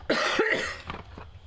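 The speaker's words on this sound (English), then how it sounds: "I don't want to irritate y'all with my cough" A few harsh, close coughs from a scratchy throat erupt in quick succession during an indoor craft session, followed by fainter throaty sounds, with no speech.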